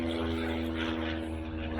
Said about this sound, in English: It's a small plane.